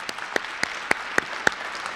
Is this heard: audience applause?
yes